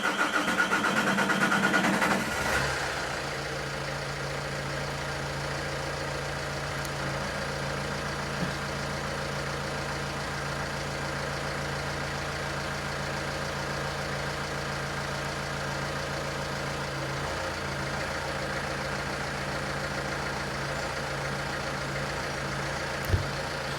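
A 2013 Vauxhall Insignia 2.0 CDTi diesel with a suspected sticking turbo cranks briefly and catches, then settles into a steady, even idle hum that holds for the rest of the stretch.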